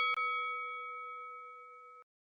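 A single bright bell ding rings out once, loud and close, then sustains with a clear ringing tone for about two seconds before cutting off abruptly.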